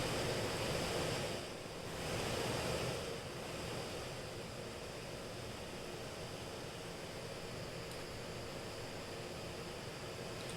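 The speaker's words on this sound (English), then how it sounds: "Let me put the boat in the water so we slow down a bit." Waves and water wash around a sailboat in Sailing Simulator, a steady broadband surf-like hiss with a gentle swell near the start, moderately quiet and continuous with no talk.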